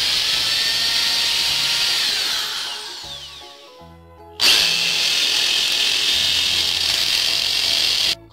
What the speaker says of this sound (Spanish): Luego hacemos los agujeros.